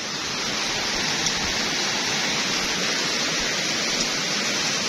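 A sudden rain storm pours down in a dense, even roar of heavy rain that stays loud and constant throughout, with no voices over it.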